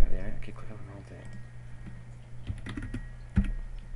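Keyboard typing and mouse clicks while working in Photoshop on an animated GIF, scattered soft taps under a man's frustrated speech, with a sharper click near the end.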